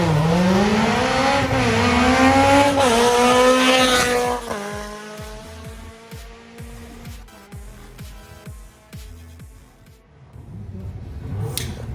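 A Simca Rallye 2 race car, 1300 cc FC1 class with a short-stroke engine and sequential gearbox, launches at the start of a hill climb, revving loudly and rising through sharp gear changes as it pulls away and fades.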